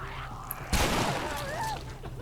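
A shotgun blast in The Last of Us, one loud sudden boom with a rough decaying tail, a faint voice heard briefly under it.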